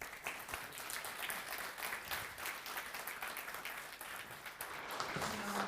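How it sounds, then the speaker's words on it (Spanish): A conference audience at an agricultural fertilization technology talk applauds steadily to welcome a speaker, the dense clapping lasting throughout at an even level and sounding somewhat distant. "La recibimos con un fuerte aplauso."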